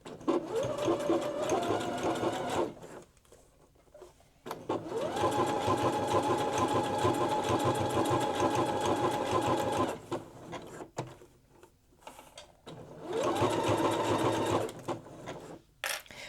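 A sewing machine runs in three long bursts of rapid, steady stitching separated by short pauses while stitching a zipper pouch made from leftover quilt blocks. The whirring is close and loud, with no talk over it.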